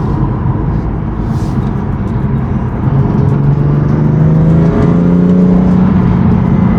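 Car fitted with a full Active Autowerke exhaust, valves open and windows up, holds a loud steady drone close by, then revs with a rising engine tone and sustained rumble.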